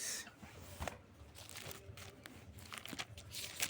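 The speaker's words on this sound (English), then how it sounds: "I don't know if you can hear the pages turning" Papery rustling and crinkling with a few sharp flicks as thin Bible pages are turned one after another, fairly quiet and close.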